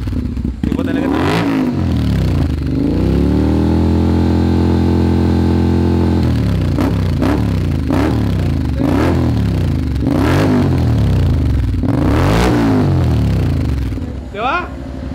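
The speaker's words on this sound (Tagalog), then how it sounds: "Alright, sound check tayo. Ito ang exhaust na to." Close-up, the loud upgraded exhaust of a Honda X-ADV 750 holds a long rising rev, then settles to a lumpy idle broken by a rapid series of sharp throttle blips.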